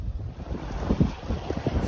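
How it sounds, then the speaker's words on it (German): Moderate wind gusts rumble against a microphone outdoors, fairly quiet and steady with a few stronger buffets. "Es windet ein bisschen stark"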